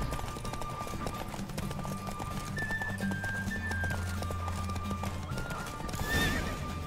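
Rapid rhythmic hoofbeats of a galloping horse in a horse race in The Witcher 3: Wild Hunt, with a couple of whinnies, over a steady low droning backdrop and a brief whooshing rush near the end.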